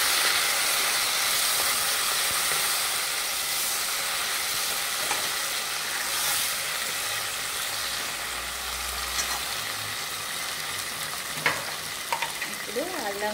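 Onions fry in a pan for a spicy goat-head talakaya curry, a constant close hissing sizzle with occasional faint stirring clicks and scrapes toward the end, and nobody speaking.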